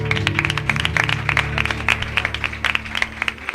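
A congregation at Ebenezer church in Medellín, Colombia, claps to praise the Lord. The clapping is sharp and rhythmic, set against sustained musical tones, with little speech.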